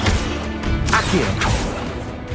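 An Accio summoning spell is cast in Hogwarts Legacy, with several swishing, whipping magic sweeps and thwacks over a constant game-ambience bed. The sound is moderately loud and has no speech.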